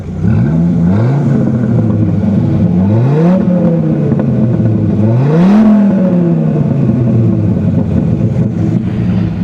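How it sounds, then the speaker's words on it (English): A Dodge Viper exhaust revs up three times, each rise climbing to a loud roar and falling back to a deep, rumbling idle, heard up close with no talking over it. "let me just give you a little exhaust note here"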